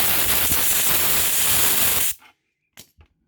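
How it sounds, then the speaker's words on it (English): A compressed-air nozzle at roughly 70 to 90 psi blasts Teflon tape off pipe threads in a loud, steady hiss for about two seconds, then cuts off, with one short extra puff shortly after. "take a compressor and just an air nozzle, set it to like, I don't know, 70, 90 psi, and just blast the Teflon tape off"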